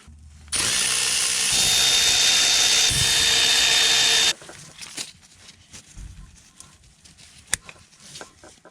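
A power drill or driver runs steadily for about four seconds, loosening one of three 14 mm bolts on a bracket of an MR2 Spyder, then stops, leaving faint clicks and handling noises.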